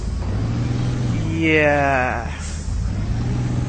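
A heavy truck engine in the off-road driving game SpinTires, grinding steadily through forest under a brief spoken word, with a rising whine in the middle.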